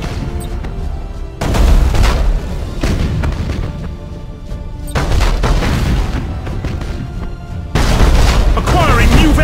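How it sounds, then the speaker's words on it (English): Broadside macro cannons of Imperial Navy warships fire in the space battle game Battlefleet Gothic Armada, loud booming salvos in three heavy bursts with rumbling tails, mixed with voice chatter. "Broadside macro cannons ready to fire on your order"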